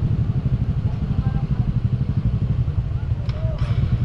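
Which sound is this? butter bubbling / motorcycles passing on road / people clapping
motorcycles passing on road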